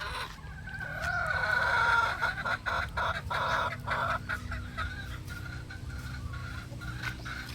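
Clucking from a sweater gamefowl rooster, a steady run of close, fairly loud clucks and short calls over a rural yard background, with no talk.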